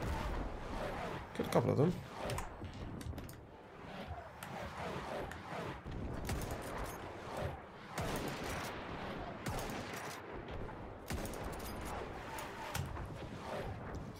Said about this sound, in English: Throw some artillery in it.